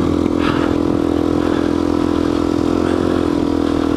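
A dirt bike engine held at high RPM while riding in sand in New Mexico, a loud continuous close-up drone with slight rises and some clatter, no voices.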